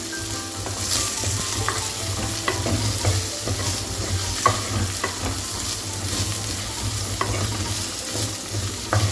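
Homegrown okra being sautéed in a pan to cook off its sliminess, a steady close sizzle with a low hum beneath and occasional spatula scrapes and taps, no voices over it.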